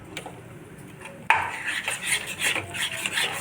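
A spoon stirs and scrapes tomato masala around a pan for paneer butter masala, giving soft rubbing and gentle clinks of utensil on metal that grow louder after a sharp knock partway through, close by with no talk.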